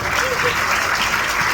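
Steady applause from an audience at a CM School of Excellence event in Giridih, Jharkhand, marking a tree-planting occasion; dense, continuous clapping holds at an even loudness throughout the short stretch.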